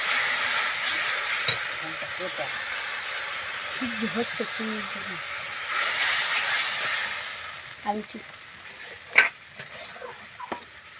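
Water is poured into hot oil in a pan for Bengali amudi fish curry, giving bursts of broad sizzling hiss that then settle into a softer bubbling, with someone talking partway through.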